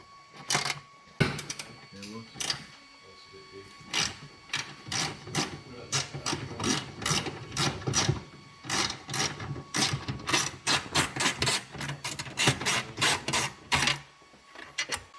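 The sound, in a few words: removing rocker cover heat shield screws, 10mm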